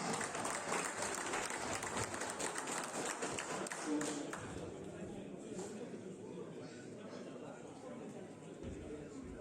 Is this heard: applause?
yes